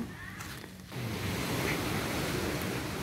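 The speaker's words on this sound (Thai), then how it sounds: "ตรงนี้น้ำซัดมาถึงนี่เลยนะ" Sea waves wash up on Ban Krut beach in Prachuap, a broad, steady rush of surf that swells louder after a brief quieter moment, with a faint breezy hiss and no voices.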